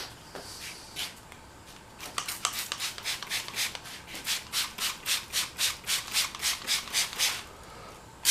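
Headlight lens being wet sanded by hand before a VHT Niteshade tint, close rhythmic rubbing strokes that start sparse and settle into a steady back-and-forth pattern of about a dozen even passes.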